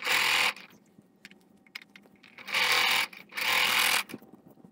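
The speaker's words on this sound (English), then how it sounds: "just gonna have a stitch on the edges" A sewing machine stitches along the edges of joined fabric patches in three loud, steady bursts, the first short and the last two longer, with quiet pauses and faint handling noise between them.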